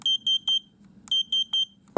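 A drone's receiver beeper, set to beep from an aux channel, sounds loud, shrill electronic beeps in two bursts of three evenly spaced tones, separated by a brief pause, over a faint low hum.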